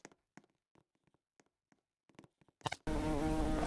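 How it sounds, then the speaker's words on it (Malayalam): A bee buzzing loudly and very close, sudden and steady for the final second, after a few soft scattered taps and rustles. "അയ്യോ, എന്നെ തേനീച്ച കുത്തി."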